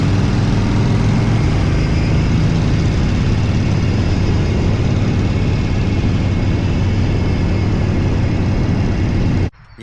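A Harley Panhead chopper with a stroker engine runs steadily and loud at close range, a dense low rumble held for nearly ten seconds before cutting off abruptly.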